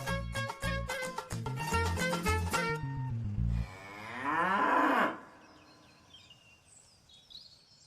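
A buffalo on a farm moos loudly and nearby. A run of deep, pulsing lowing is followed by one long rising moo, then quieter birdsong.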